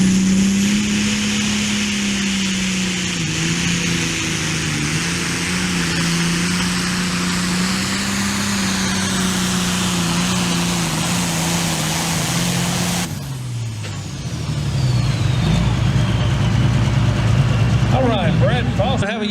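The John Deere pulling tractor called the Moonshiner roars with a loud, sustained engine drone at a night tractor and truck pull, holding steady before cutting off abruptly and giving way to crowd and other engine noise.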